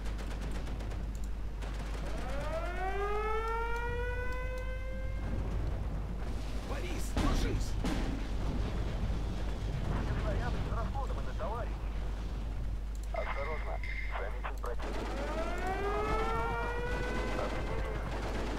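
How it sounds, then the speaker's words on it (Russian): Artillery fire in the Steel Division 2 war game, with sharp blasts and rumbling impacts mixed with rising whistling tones that recur, all under a steady low hum. "Артиллерия ждет приказа"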